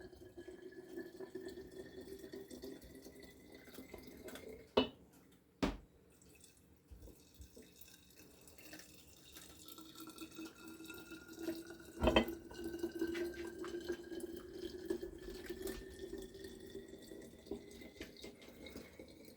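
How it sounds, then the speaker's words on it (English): Vodka poured over almonds in a jar, a soft, continuous trickling pour with a few sharper clinks, close and fairly quiet with no talking. "pour the vodka over the almonds"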